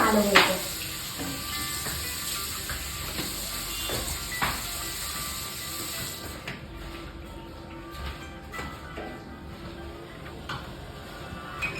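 Chaat warmed in a pan with water added, hissing and bubbling steadily for about twelve seconds, with a few small metallic clinks; the simmer grows slightly softer partway through.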